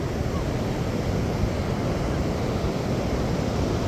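Steady breezy wind at a busy public beach during a festival, a constant loud broadband rush with surf-like wash and no pauses, no voices standing out.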